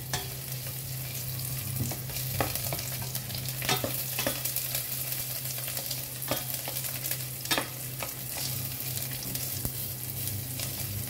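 Ginger and then garlic fry and sizzle in a pan with a steady hiss, broken by repeated scrapes and clinks of stirring, all without any voices.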